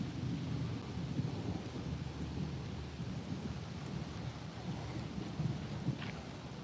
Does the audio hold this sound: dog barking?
no